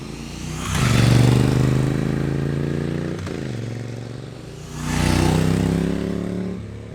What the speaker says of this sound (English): I think this is the best sounding bike